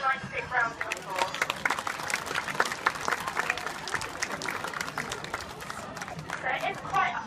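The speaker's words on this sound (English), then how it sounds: "Should we give them a nice big round of applause?" A crowd at an outdoor cockatoo presentation on a hot day bursts into applause, brisk clapping mixed with some murmuring chatter and voices through the whole stretch.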